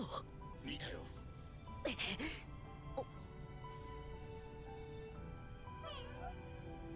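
A cat meows a couple of times, soft and close, with a brief higher call later over steady background noise.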